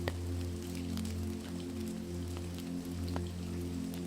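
Steady rain falls outside, a constant, even patter on surfaces with a low continuous rumble underneath and no voices.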